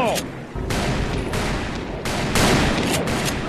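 Gunfire in Call of Juarez Bound in Blood: rapid, loud bursts of shots that blend into a steady barrage for several seconds, close and dominating the mix.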